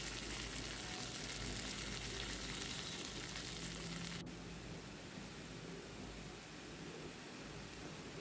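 Red cabbage goes into a hot pan a little at a time and fries with a steady, rain-like sizzling hiss. The hiss is louder at first, then settles a bit quieter, with no talking.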